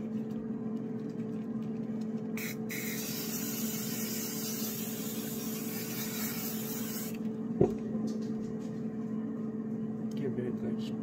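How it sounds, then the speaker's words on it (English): Hairspray hisses from a can onto glittered cotton-candy party decor in one steady burst of about five seconds, standing out against a low background hum. "I have my hairspray."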